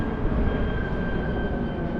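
A trolley passes in Brickell, Miami, a loud steady rumble with a faint high tone riding over it, close by for a couple of seconds and without talk.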